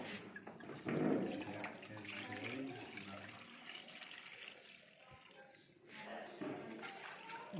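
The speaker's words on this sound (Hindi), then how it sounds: "दोबारा इसमें पानी डाल रहे हैं ताकि वो अच्छी तरह मिक्स हो जाए" Water is poured into a container of mud to mix it for gold extraction, giving a close, steady splashing pour with a voice talking over it.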